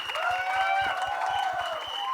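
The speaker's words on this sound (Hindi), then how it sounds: "यार थोड़ा तालियों से इनका स्वागत करें यार" Audience applause welcoming new cast members at the Mirzapur: The Movie trailer launch, a steady wash of clapping from a crowd, moderately loud and continuous throughout with tonal hum from the hall beneath it.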